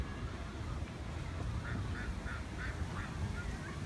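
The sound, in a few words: swans calling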